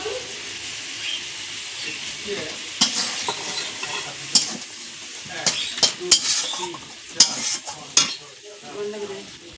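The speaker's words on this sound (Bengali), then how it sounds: "এবার আমি ডিমগুলো ভাজা ডিমগুলো মশলার মধ্যে দিয়ে দিচ্ছি" Fried eggs stirred into a sizzling spice masala in a pan, with steady hissing fry and irregular metallic scrapes and knocks of the spoon against the pot, growing busier toward the end, with no talk.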